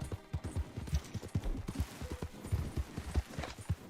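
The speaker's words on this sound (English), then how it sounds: "My horse doesn't want to run." Horse hooves in the Red Dead Online video game pound in a quick, steady galloping rhythm, loud and close, with light background noise.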